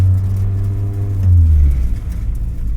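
A K24-swapped Mazda Miata rolls along slowly, its engine droning with a deep low hum and vibration that shifts pitch partway through, heard close and without talk.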